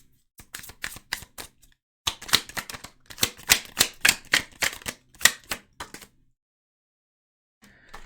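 Tarot cards being shuffled and handled, heard as dense bursts of crisp, rapid clicks and riffles in two main runs, then a short pause and a brief final flick, close up with no talk.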